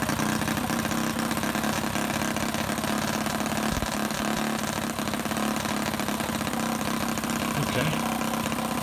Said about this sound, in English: Okay, I'm leaning it out now, so now I'm going to set my idle down.